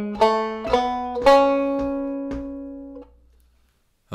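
Banjo plays a melody with its notes placed more squarely on the beat, a handful of evenly spaced bright plucks that ring out, close and solo, then fade to quiet.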